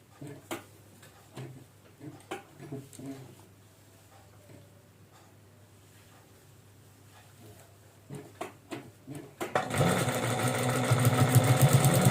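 Sewing machine stitching the neckline of a designer maxi dress, starting with scattered soft clicks and handling taps, then a loud steady mechanical whirr of fast stitching rising over the final seconds.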